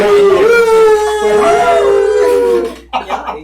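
A man imitates a wolf howl with his voice, a loud, drawn-out wavering tone that rises and falls for nearly three seconds, then breaks off into a short breathy laugh.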